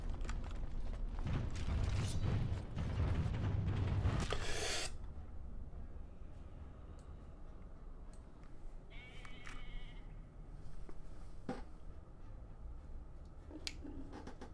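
A goat in the Dragon Age: Origins video game bleats loudly for several seconds over game ambience, followed by quieter clicks, creaks and faint background sounds.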